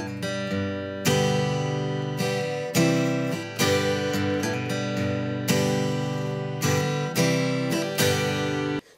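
Guitar playing the intro lick of a song: bright picked chords struck in a repeating, punchy rhythm, each hit ringing briefly before the next, played clearly with no talking.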